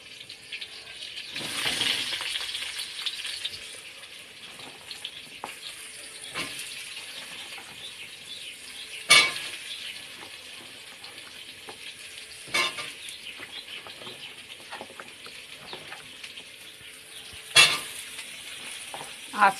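Ridge gourd fries in a pan with a nigella seed and green chili tempering, giving a soft continuous sizzle with occasional stirring scrapes and sharp clinks, close by and fairly quiet, with no talk.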